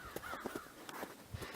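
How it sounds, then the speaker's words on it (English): A few harsh crow caws ring out in a quiet outdoor setting, spaced irregularly, one cluster early and another near the end. "crow that's flying around keeps barking away here"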